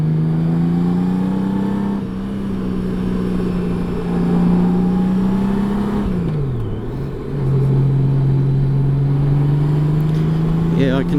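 A 2018 Honda Goldwing motorcycle cruises on a coastal road near Ettalong Beach, Central Coast, NSW. The engine drones steadily under wind rush, and its pitch dips briefly partway through before returning to an even tone.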